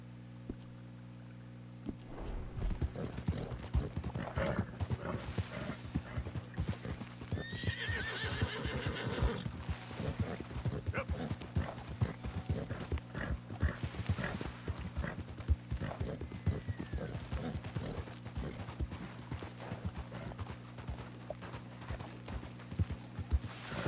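Horse hooves clip-clop steadily across ground in Red Dead Redemption 2, the rhythmic footfalls running nearly the whole time over a low, constant game ambience.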